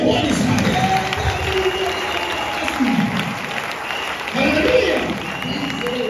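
A church congregation at an Église MEVJCE worship service applauds and cheers to acclaim the king of Israel, with a steady wash of clapping and crowd noise and a voice speaking over it.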